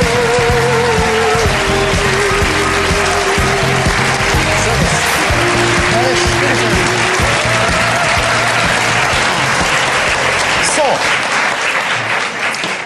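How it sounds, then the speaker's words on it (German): Studio audience at a German talk show applauding loudly and steadily as astrophysicist guest Harald Lesch is welcomed, a dense wash of clapping with voices underneath. "Herr Lesch, merken Sie den Applaus?"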